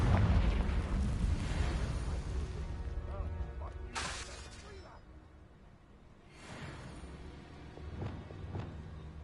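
A Confringo blast curse explodes in a Harry Potter video game, with loud rumbling low-end booms and two sharp bursting flares about two seconds apart, over a dense roaring game background.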